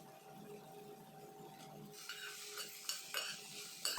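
Okra (bendekayi) with red chili powder being stirred in a pan, with a soft steady sizzle and scraping strokes that grow busier and brighter in the second half, punctuated by a few sharper utensil knocks.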